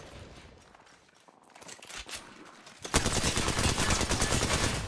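Apex Legends gunshots: faint scattered clicks and muffled movement lead into a sudden loud burst of rapid automatic fire that carries on to the end.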